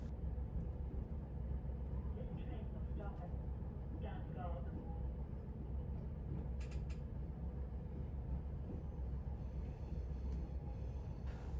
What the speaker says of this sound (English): Let's see this from a train coming into Dungog Station.